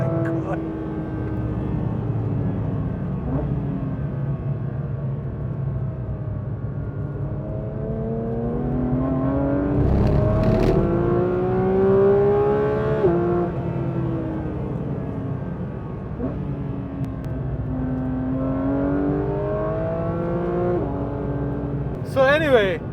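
A Porsche 911 GT3 engine heard from the cabin climbs and drops in pitch through repeated rising sweeps as the car accelerates and shifts, loud and close throughout.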